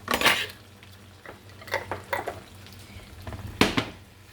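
Minced garlic is stirred into Alfredo sauce in a pan: a few close clinks and scrapes of a utensil against metal, with quiet stirring between them.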